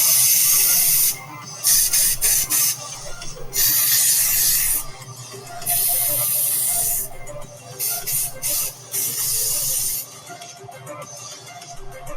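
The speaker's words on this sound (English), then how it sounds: "Oh, just some sleeping spray potion just to knock him out unconscious." Hissing bursts from a sleeping potion spray, several separate sprays of uneven length broken by short pauses, close and fairly loud.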